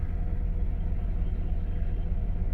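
Car engine idling rough with a dead miss on cylinder 4, a low, uneven rumble with a steady pulsing throb that keeps going throughout, close and moderately loud, with no talking.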